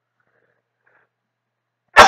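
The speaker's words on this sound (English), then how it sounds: "Excuse me, a little sneeze." A single short sneeze bursts out near the end after a stretch of near silence, close and fairly loud, with no talking around it.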